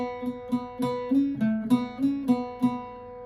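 Irish bouzouki playing the second phrase of the B part of the jig Old Hag You Have Killed Me, a clear plucked melody with steady rhythmic strums and ringing drone strings, close and alone.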